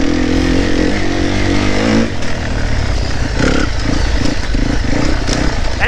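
New dirt bike ridden with the throttle opened, its engine revving hard in a loud, close, continuous roar that dips briefly and then climbs again.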